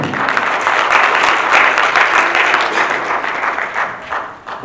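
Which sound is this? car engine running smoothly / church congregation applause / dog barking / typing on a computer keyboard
church congregation applause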